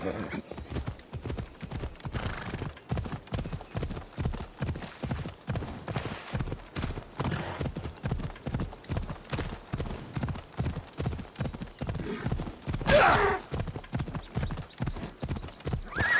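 Horse hooves clip-clopping in a steady rapid rhythm across a long stretch in Assassin's Creed Odyssey, close and prominent, with a rider's voice calling out now and then and a brief whinny or burst of noise near the end.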